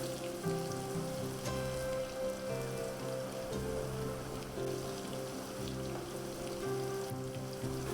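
Onions and potatoes sautéing in oil for a Spanish omelette, giving a steady, continuous crackling sizzle like light rain, close and moderately loud throughout with no talking.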